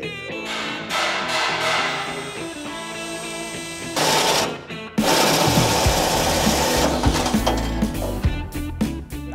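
A drill whines and grinds through a metal fuel tank in uneven bursts, pausing briefly before biting in again, loud and close.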